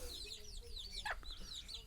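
Hens and roosters, wild jungle fowl, cluck and chirp in quick, scattered bursts, fairly close, with a short louder squawk partway through and a low murmur beneath.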